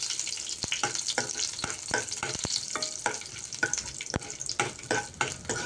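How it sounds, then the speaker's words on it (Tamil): Small pieces of coconut fry in ghee with a steady close sizzle. A spoon stirs through them in repeated sharp scrapes and clicks, and no one speaks. "நம்ம வந்து தேங்காய் சின்ன சின்னதாக கட் பண்ணி வச்சுருக்கோம், அது கூட போட்டுக்கலாம். நெய்யிலே போட்டு வறுத்துக்கலாம்."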